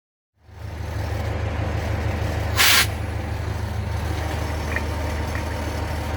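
An old truck's engine idles with a steady low rumble that starts abruptly, then a brief, sharp hiss of air from the brakes or airbag suspension cuts through, close and loud, before the idle continues alone.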